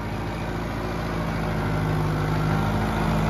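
A 50 HP Kubota 5502 tractor pulling a 9-foot rotavator loaded with nine people runs with a steady, continuous low engine drone that stays even and unbroken throughout.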